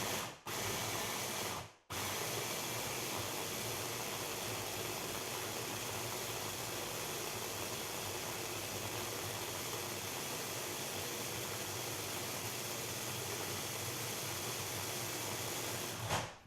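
A blender blending blood orange hot pepper sauce whirs steadily at high speed for about fifteen seconds, a loud continuous whine with two short pauses near the start.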